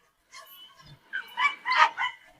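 Large guard dogs, including a giant Kangal and a Cane Corso, are heard as one dog gives a run of close, high whimpering yips and short barks in a quick, uneven series.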